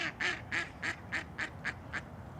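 Geese at a pond give a series of about eight evenly spaced honks, fairly close and steady in rhythm against quiet outdoor background.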